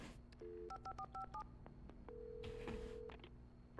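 A telephone is dialed in Alan Wake: a quick run of short keypad tones, a pause, then a longer steady tone, all fairly quiet over a low background hum.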